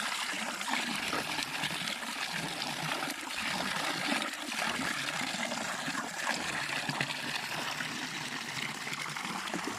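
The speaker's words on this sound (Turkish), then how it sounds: "Yayla suyu." Cold spring water on a forested mountain plateau flowing in a steady, close trickling stream, continuous and fairly loud with no voices.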